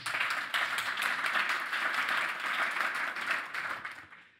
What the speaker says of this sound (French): Vous pouvez encore une fois vous applaudir.